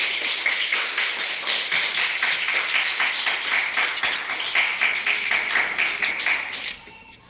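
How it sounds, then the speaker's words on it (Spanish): A church congregation applauds together, a steady dense wash of many hands clapping close by that holds for several seconds, then thins and fades away at the end. "Así que, dale un aplauso al Señor,"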